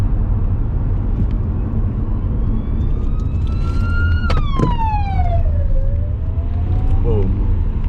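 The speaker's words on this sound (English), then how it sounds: "Just had to give way to an ambulance there while doing 70 k's an hour on the twisty roads." An ambulance siren wails on a winding road in Romania as a car pulls aside, close and loud with rising and falling tones that sweep by over steady road and engine noise.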